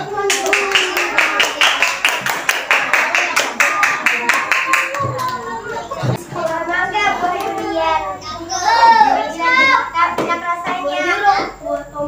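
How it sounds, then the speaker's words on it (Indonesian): Schoolchildren in a classroom clap in quick rhythmic unison for a classmate, a loud patterned run of claps for about five seconds, then children's voices and an adult talking take over. "Beri tepuk tangan buat temannya."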